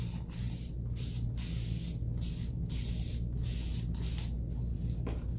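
Spray paint mists green patina onto a concrete lion statue for an aged copper finish: a series of close, loud hissing bursts separated by short pauses, with no talking.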